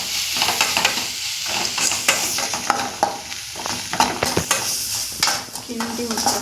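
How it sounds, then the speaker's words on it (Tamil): Ginger garlic paste fries in a pan with a steady close sizzle while a spoon stirs and scrapes through it in repeated strokes, with a few light clinks. "இஞ்சி பூண்டு பேஸ்ட் போட்டாச்சு. போட்டோடனே கிண்டி விட்டுருங்க."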